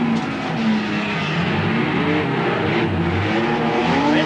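Speedway race cars circling Charlton Raceway during the Carnival of Flowers Cup, their engines droning and revving steadily with shifting pitches as the pack passes, loud and continuous without talk.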